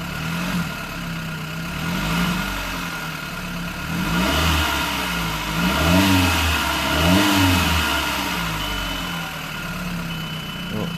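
Close, loud revving from a Volkswagen Jetta engine that swells and eases in repeated waves over a steady idle, with a rough low rumble and no voices.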